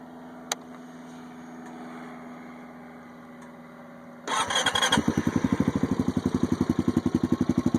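Honda Foreman 500 ATV fitted with a Big Guns Eco exhaust, near and alone: a faint steady hum, then the engine cranks and fires around four seconds in, settling into a loud, even, rapid idle thump.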